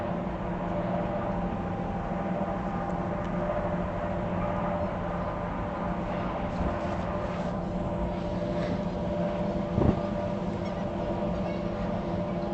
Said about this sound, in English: The engines are real loud